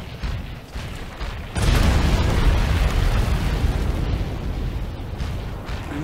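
A planted bomb detonates in Monster Hunter Stories 2, a sudden loud blast that rolls into a sustained rumbling roar and slowly fades after a quieter opening.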